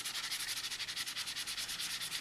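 Bicycle Streamline playing cards rubbing against each other during a shuffle, a close, steady, quiet hiss pulsing in a quick even rhythm with no voices.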